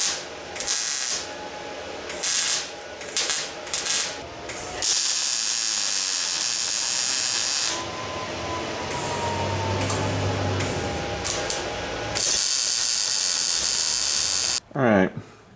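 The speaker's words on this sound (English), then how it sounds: "I'm going to drill some spot weld holes" Drilling spot weld holes in a truck bed side step: several bursts of a shrill, whining power drill biting into steel, some long and steady, some short, separated by brief pauses and clattering handling noise.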